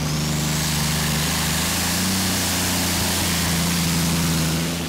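Roaring engine of a pulling tractor during a Eurocup tractor pulling run in Brande, Denmark, a loud continuous drone holding steady for the whole stretch with no voices.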